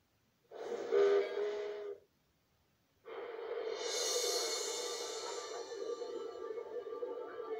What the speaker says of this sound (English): It's a steam train.